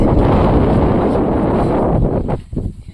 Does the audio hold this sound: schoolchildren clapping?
no